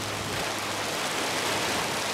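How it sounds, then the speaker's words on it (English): Half-inch hail and rain pour down in a storm, a dense, continuous hiss that stays loud and even throughout, with no voices. "Looks like I got about ½ inch hail falling down."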